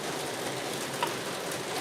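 Rain falling outdoors during a backyard steak cookout, a steady, even hiss of drops throughout with no talking.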